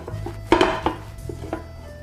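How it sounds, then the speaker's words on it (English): A plate set on top of a pan and gripped to flip a Spanish tortilla: several short clinks and knocks of crockery against metal, close and fairly quiet. "Now I take my plate, put it on top of the pan, hold the pan and the plate firmly,"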